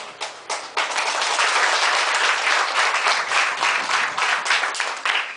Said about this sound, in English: let us give a round of applause to both teams.